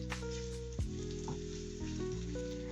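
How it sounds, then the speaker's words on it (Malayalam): Chopped onions frying in hot coconut oil for a Kerala-style fish curry, a steady close sizzle with a couple of brief stirring scrapes. "വെളിച്ചെണ്ണ ചൂടായതിന് ശേഷം ഉള്ളി കട്ട് ചെയ്തത് അതിലേക്ക് ഇട്ട് കൊടുത്തിട്ടുണ്ട്."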